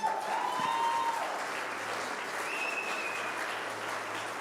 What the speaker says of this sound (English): Let's give a big round of applause for both girls.